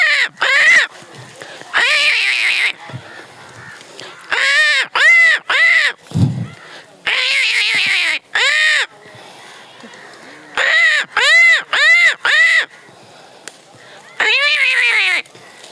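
A man imitates crows with loud, harsh caws in repeated bursts, some single and some in quick runs of three or four, close to the microphone, with crows cawing among them and a crowd gathered outdoors.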